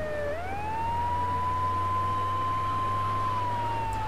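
Police siren in the video game GTA 3, a continuous steady electronic wail that rises at first then holds a sustained tone, loud and close over a low engine hum, with no talking.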